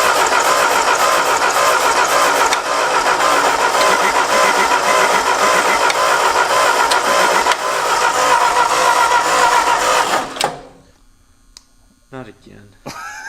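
An old Pontiac car engine runs in neutral on an abandoned farm, a loud, steady rough roar with a slight surge partway through, then cutting out abruptly to near quiet with faint clicks.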